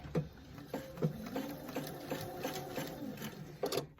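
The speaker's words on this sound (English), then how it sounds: "And I'm going to sew 1/4 inch." A sewing machine stitching a quarter-inch seam joining fabric to muslin for a puffy pillow, running in short bursts with rhythmic mechanical clatter and brief pauses, close and moderately loud, with no voices.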